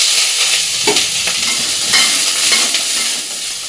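Potatoes and cauliflower fry in mustard oil with black cumin and dried red chillies, giving a steady loud sizzle with a few spatula scrapes against the pan.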